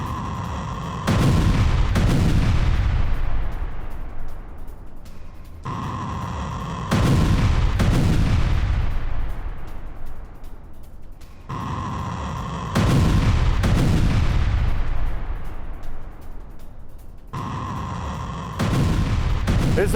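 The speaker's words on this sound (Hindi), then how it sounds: "हूती ने किया सरफेस टू सरफेस मिसाइल का टेस्ट। ये देखिए जरा, हूती मिसाइल टेस्ट कर रहा है।" A Houthi surface-to-surface missile test launch produces four heavy, booming blasts spaced several seconds apart, each a loud roaring burst that decays into a long rumbling tail, with no voices.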